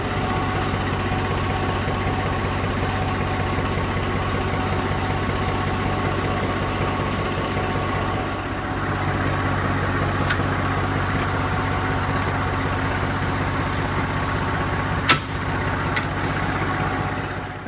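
A truck with a ball hitch idles and rumbles steadily while moving a welding trailer outside, a low continuous engine drone with a couple of brief metallic clanks near the end.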